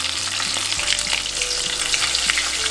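Ukoy, a Filipino shrimp fritter, fries in oil with a dense, steady sizzle and crackling bubbles, loud and close throughout, with no speech.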